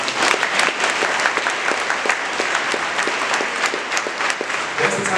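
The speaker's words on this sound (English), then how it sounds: "So let's give it a round of applause for that." A crowd at an award ceremony honoring Penny Hardaway gives a dense, sustained round of applause, even and fairly loud throughout, with no voice over it.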